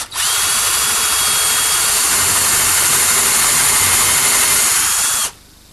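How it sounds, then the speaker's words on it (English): Power drill boring angled screw pilot holes into wood for a coffee table, a loud, steady high-pitched whine held for about five seconds before it cuts off abruptly, with no talking. "then I'm going to pre-drill for some screws, about a"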